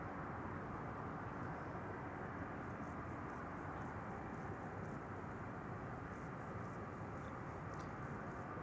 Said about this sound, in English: Tui is arriving with a MAX 8 737 arriving from Tivat